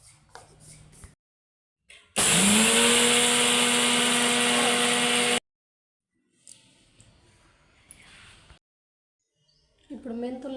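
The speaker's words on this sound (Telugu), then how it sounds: "ఇవి మనం మిక్సీ చేసుకోవాలన్నమాట." A kitchen mixer grinder whirs loudly for about three seconds grinding Indian gooseberry pickle ingredients, a steady high motor whine that starts abruptly and stops, with faint handling noises and a brief voice before and after.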